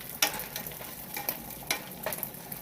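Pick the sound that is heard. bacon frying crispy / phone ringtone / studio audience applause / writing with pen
bacon frying crispy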